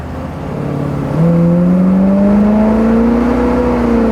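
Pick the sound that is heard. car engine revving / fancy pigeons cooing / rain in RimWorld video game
car engine revving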